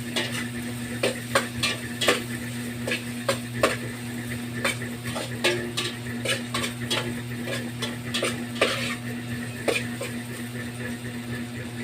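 Ginger sizzles in hot cooking oil for dinuguan, with a soft frying hiss under irregular stirring clicks and utensil taps against the pan, set over a steady low hum.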